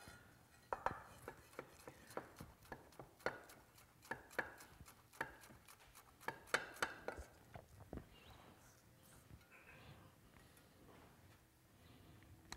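A Hammer Stahl knife mincing onion strips on a cutting board, rapid close chopping taps in a steady rhythm that slow and grow fainter toward the end, with no talking.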